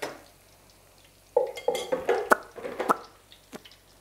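Gluten-free vegan pakoras cook in hot oil while a utensil stirs and clinks against the pan in quick, irregular bursts after a quiet opening second, close by and without talk.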